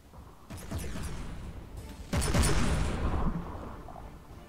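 Warship guns firing a volley in the naval combat game From The Depths, a battleship tournament clash: layered booming blasts and crackling bursts that swell over a few seconds, with a second louder wave midway, and no voices.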